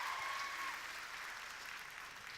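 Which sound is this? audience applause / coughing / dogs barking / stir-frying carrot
audience applause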